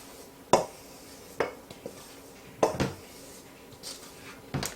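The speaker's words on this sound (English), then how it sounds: "I have 2 cups of all-purpose flour, and I have a teaspoon and a half of salt. I'm going to stir that together." A utensil stirs all-purpose flour and salt together in a bowl, making a few sharp, separate clinks and scrapes against the bowl with quiet pauses between them.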